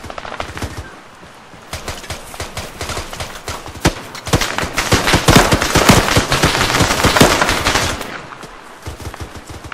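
Rapid bursts of automatic gunfire from an Arma 3 firefight, dense overlapping shots swelling louder in the middle before thinning out, loud and close, with no talk over them.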